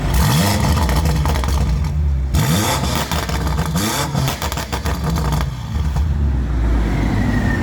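A 2019 BMW M5 Competition sedan engine revving hard in repeated surges, loud and close, the pitch climbing and dropping between blips over a continuous roar.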